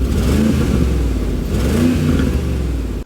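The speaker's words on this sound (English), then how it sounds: "Kevin, rev it up." A 2019 Mercedes G-Wagon G550 SUV engine revs hard and loud close by, rising and falling in a couple of throaty surges before cutting off abruptly.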